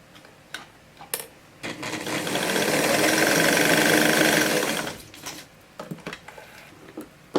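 A sewing machine topstitches a godet dress in one steady, fast-whirring run of about three seconds, close and loud, framed before and after by scattered clicks and fabric handling, with no talking.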